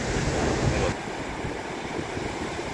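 Sea waves and wind on Devgad beach make a steady broadband rush, slightly louder for the first second, then a softer continuous wash with no other sounds standing out.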